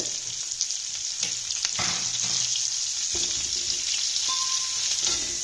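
Steady oil sizzle of onions and tomatoes frying in a pan, with occasional scraping stirs and clinks, loud and close throughout.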